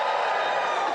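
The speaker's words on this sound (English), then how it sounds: "Give us a cheer if you are on Twitter." Stand-up comedy audience cheering in a live venue, a dense sustained roar of crowd voices filling the room at steady loudness throughout.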